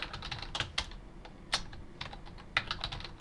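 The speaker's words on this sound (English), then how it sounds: "Next, I'll type in Windows" Quick, irregular clicks of a computer keyboard being typed on up close, individual keystrokes clearly separated with brief pauses between bursts.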